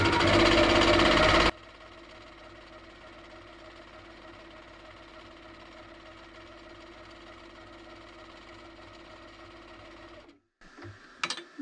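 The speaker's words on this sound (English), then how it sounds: "Now I'm just going to do a meandering stitch all over this." Sewing machine stitching a meandering quilting pattern over a quilted pad, starting with a loud burst and then settling into a steady, quieter mechanical whir with a brief stop near the end.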